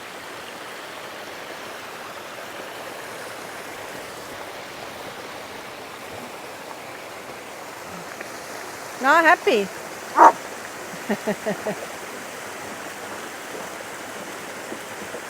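A mountain waterfall on a Swiss alpine trail near Schynige Platte roars steadily as a broad, even rush throughout. A dog barks in a short cluster midway, and a few brief words are spoken.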